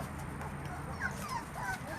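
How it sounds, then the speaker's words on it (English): A puppy gives faint, high yips and whimpers scattered across a quiet room, with soft background noise throughout. "Somebody barking!"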